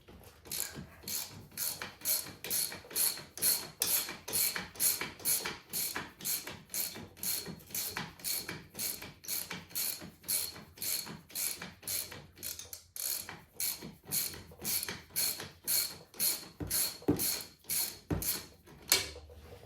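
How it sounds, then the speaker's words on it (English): Rapid, rhythmic ratcheting from a hand wrench working on a Polaris UTV sway bar link, dozens of evenly paced clicks up close, running almost continuously with a brief break near the middle. "Get this sway bar"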